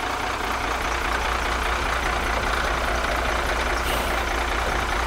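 A Class B truck at CDL skills training rolls slowly up toward a cone, its engine a steady, fairly loud diesel drone with continuous low rumble and no speech.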